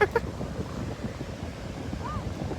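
Steady wind rumbles and buffets the microphone outdoors, a continuous low roar with a brief voice-like sound at the start.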